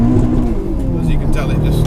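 A turbocharged 530bhp Volkswagen Golf VRS revs its engine with a droning, rising tone that sits prominently in the mix. People talk over it.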